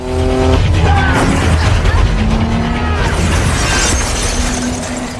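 A car crashes during a street race in Tokyo Drift, with a loud smash, shattering glass and skidding tires over a roaring engine. The impact comes early and the sound fades into a rumble as debris settles.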